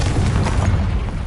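A Confringo fire spell explodes in the Hogwarts Legacy video game, producing a loud, sustained booming blast with a dense low rumble across the whole moment and no speech.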